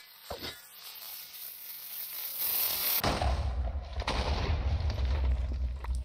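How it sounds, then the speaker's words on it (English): A video game explosion erupts suddenly, a broadband roaring burst that lingers loud with a rumbling low-end tail and scattered crackling debris for several seconds. "That explosion's a little bit annoying."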